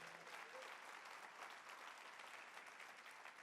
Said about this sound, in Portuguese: Aplaudir é para Deus, irmãos,